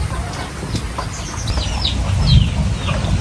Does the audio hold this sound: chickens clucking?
yes